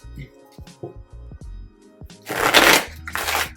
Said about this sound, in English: as you see, it shuffles pretty easily